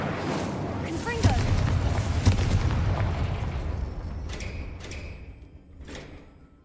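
Incendio and Confringo spells go off in Hogwarts Legacy, a run of heavy thuds and booming blasts with crackling debris, fading into scattered lighter impacts and chimes as a voice talks over it.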